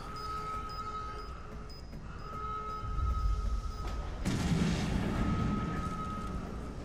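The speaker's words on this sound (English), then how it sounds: "I wasted a bomb" A bomb detonates in Resident Evil 7, a low rumbling blast that swells around the middle of the stretch and lingers under a steady tonal game hum, with no talking over it.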